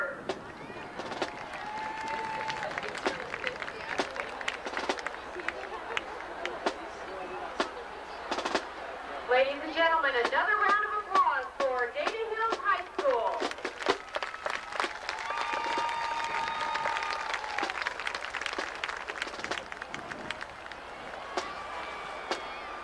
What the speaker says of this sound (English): Another round of applause for Dayton Hills High School